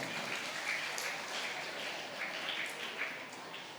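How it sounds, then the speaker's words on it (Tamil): Children at a church children's program clap their hands, a faint, continuous patter of many small claps heard at a distance and blending into a soft, even wash. "நல்லா இருந்தால் கைத்தட்டுங்க, நல்லா இல்லைன்னா கைத்தட்ட வேண்டாம்"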